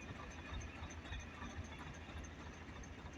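A tractor engine runs during field ploughing, a continuous, faint, low drone with a steady whine over it and no break in the rhythm.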